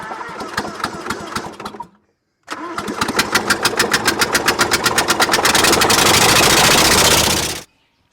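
An engine on an old machine in need of repair is cranked and fires after a brief pause, then runs with a loud, fast, uneven chugging that builds and roughens before being cut off abruptly.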